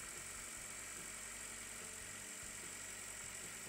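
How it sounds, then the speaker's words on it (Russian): A Ravon R2 / Chevrolet Spark M300 car engine with tuned camshafts idles with a steady, even hum and low rumble, constant throughout with no voices. "мотор работает ровно."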